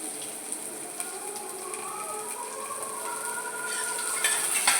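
Sliced onion goes into a hot pan for a home dinner and fries with a continuous soft sizzle that swells slightly toward the end, with faint crackles and occasional utensil touches.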